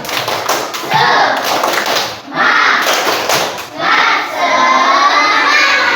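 A classroom of elementary school children performs the tepuk semangat chant, loud patterned clapping and desk thumps in three bursts, mixed with their shouted chanting voices.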